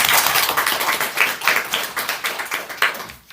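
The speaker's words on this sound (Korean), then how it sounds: "우리 박수로 감사를 표해 주시면 좋겠습니다." Korean church congregation applauding during a Sunday worship service, a dense burst of hand clapping that stays steady and close for a few seconds before tapering off at the end.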